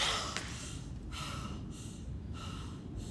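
A sharp, breathy gasp like someone dragged back from the dead, followed by several shorter ragged breaths and snorts, close and clear with no talking.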